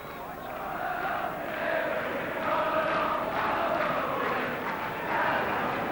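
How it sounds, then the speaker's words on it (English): Large football crowd at a Watford versus Luton Town derby match, a steady roar of massed voices swelling and easing throughout, with commentary-like talk over it. "a very good crowd, as they always get for these Watford-Luton derby games"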